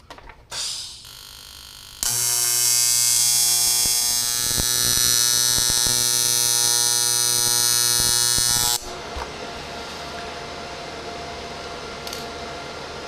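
High-pitched whine of a powered wire brush cleaning welds on a steel Harley-Davidson sprocket guard, steady and loud for several seconds before spinning down into a lower hum.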